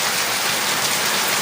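Heavy rain falls in a steady, dense roar, a loud, close, continuous wash of noise with no voices or breaks.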